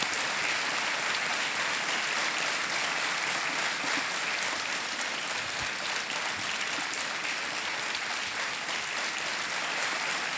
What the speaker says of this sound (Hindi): एक बार जोरदार तालियां बजाएं इनके लिए